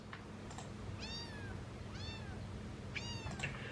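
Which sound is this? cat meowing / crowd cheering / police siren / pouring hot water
cat meowing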